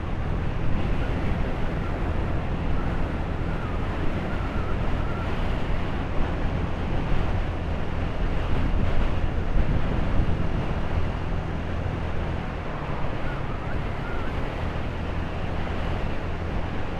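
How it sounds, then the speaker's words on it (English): Steady, loud wind buffets the microphone while riding a Honda Navi motorcycle along a road, a constant low roar with no other distinct sounds above it. "It's kind of windy going this direction."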